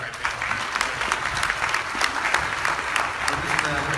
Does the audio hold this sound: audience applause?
yes